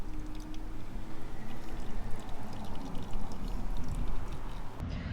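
Engine oil drains from the oil filter of a 2014-2020 Yamaha FZ-09 motorcycle in a steady, fairly loud pour that runs continuously close by and then tapers at the end.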